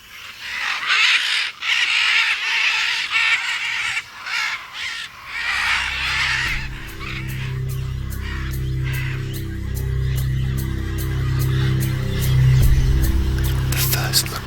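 Macaws call with harsh, raucous squawks near a jungle clay lick, loud and close at first, then sparser amid forest ambience and a low steady hum.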